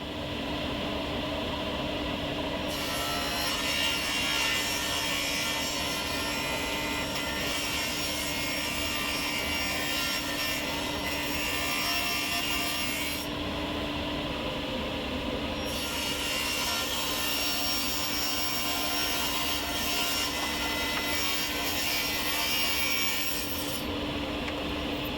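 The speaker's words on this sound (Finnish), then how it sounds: "sitten vanerit tehdään tommoseksi" Plywood being sawn for kitchen cabinet doors in an old log cabin, a continuous loud rasping cut that runs steadily for about twenty-five seconds, with a few brief pauses in the high hiss.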